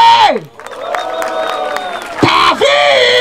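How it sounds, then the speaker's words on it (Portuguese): Large crowd of about ten thousand at the BDA Hip Hop Tour 2019 final rap battle in Barueri roars and whoops loudly, with a brief dip before the cheering surges back. "Barulho para as rimas de Mike"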